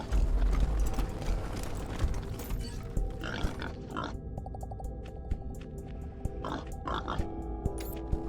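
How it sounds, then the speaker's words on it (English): A pig carrying dynamite in the game Wasteland 3 grunts and snorts against a dense, busy game soundscape with steady background noise and scattered clicks. "There's a pig here with some dynamite on it."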